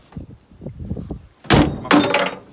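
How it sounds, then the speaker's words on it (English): A door handle gives way on an old 1963 Ford F100 truck: light rattling and fiddling with the latch, then two loud, close metallic clunks in quick succession. "there went the door handle"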